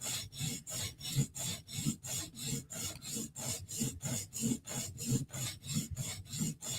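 A Spyderco folding knife drawn over a coarse sharpening stone, working a worn spot along the bevel: steady rhythmic rasping strokes, about two per second, close and even, with no talking.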